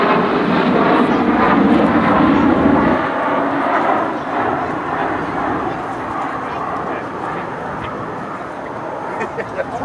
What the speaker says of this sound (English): Four afterburning engines.